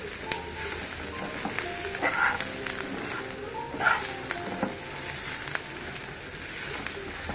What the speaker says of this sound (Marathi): हे सगळं मी भाजायला घेतलंय